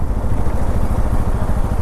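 A Bajaj Pulsar NS200 motorcycle engine running at a highway toll gate, a loud, close, steady low-pitched rumble throughout the short stretch, with no talking.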